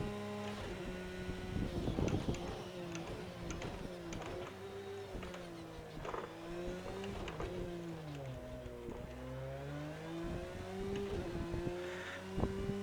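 A Porsche 911 GT3 R racing engine drones through a timed lap of the Nordschleife in a racing video game, its pitch rising and falling steadily with shifts and throttle changes, continuous and fairly quiet.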